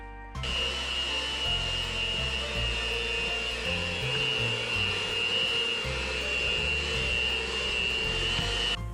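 An electric mixer whisks sugar cookie dough with a continuous loud motor whine, its steady drone shifting slightly as the beaters work the bowl, with no talking.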